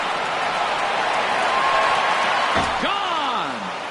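A large baseball stadium crowd of more than 37,000 roars steadily as a home run sails down the right field line, with an announcer's voice over the noise.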